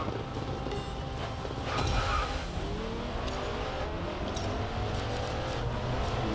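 A Ferrari in the racing game Racing Master roars at speed, with a continuous engine drone, rising rev sweeps and brief tire squeal, loud and close with no talking.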